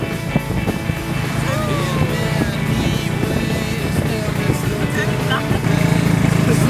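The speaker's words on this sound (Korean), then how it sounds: "처음으로 툭툭을 타보았는데요. 오토바이를 개조해서 만든 차량이라" A tuk-tuk, a motorcycle converted into a passenger vehicle, drones steadily with engine noise and road rumble during a ride in Siem Reap, Cambodia, a continuous close mechanical hum with no talking.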